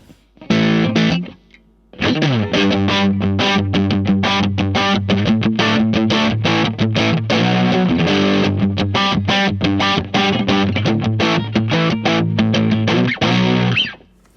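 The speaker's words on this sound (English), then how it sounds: "It's cool, got a fuzzy distortion tone." Electric guitar played through an IK Multimedia X-Drive with heavy fuzz distortion, loud chugging riffs and chords for most of the passage after a brief opening strum and pause.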